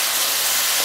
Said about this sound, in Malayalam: 2 ലിറ്റർ വെള്ളത്തിൽ നിന്ന് 1 ലിറ്റർ വളരെ സാവധാനം ഒഴിക്കണം